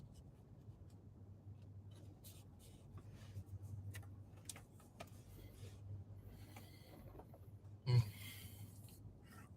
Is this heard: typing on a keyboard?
yes